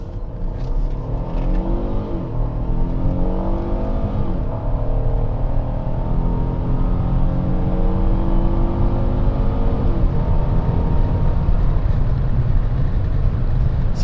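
A Ford Taurus SHO accelerates hard, its engine note climbing through several rising sweeps with shifts between them, a steady loud drone close by without talk.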